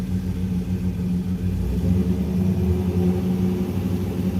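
A 1956 Chevrolet Bel Air's LS7 V8 idles with a steady low rumble, then swells slightly as throttle is fed in, running continuously close by with no voices over it.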